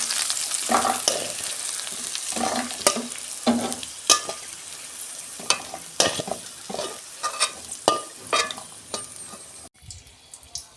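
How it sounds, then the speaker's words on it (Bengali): Vegetables frying in a pan, a loud continuous sizzle punctuated by frequent clanking stirs and scrapes of a spatula, ending abruptly in near quiet. "এগুলো ভালো করে আমি ভেজে নেব"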